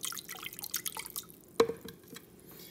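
Water sloshing and dripping inside a 2018–2019 Lourdes Hydrofix tank as it is swirled during a deep cleaning, with small splashes and one sharper splash midway, fairly close and with no voices.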